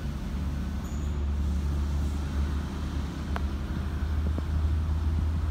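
Heavily loaded Hino Ranger and Hino 500 tronton trucks rolling along the Alas Roban road, a loud continuous low engine rumble and tyre roar close by, steady throughout with no talking.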